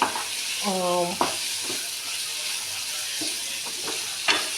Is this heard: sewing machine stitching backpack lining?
no